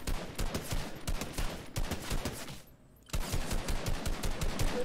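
Automatic gunfire rattles in a shooting video game as rapid, evenly spaced shots in a dense burst, a short gap, then another sustained volley, loud and close with no talk.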